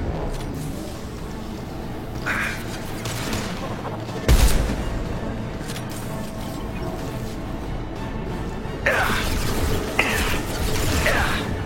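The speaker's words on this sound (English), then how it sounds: "Firing a high-impact shot." High-impact gunshots in a game combat scene, a few sharp, loud blasts over a constant mechanical rumble, with bursts of gunfire near the end.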